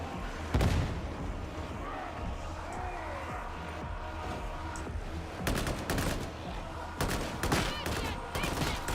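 Rapid gunfire bursts and explosions from the Warhammer 40,000: Darktide video game, dense repeated shots with heavier blasts, loud and busy, with brief voices mixed in.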